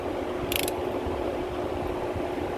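Ratchet clicking as a wheel bearing nut is tightened on a 1985 Chevy C10 front wheel, one quick burst of loud ratcheting over a steady shop hum.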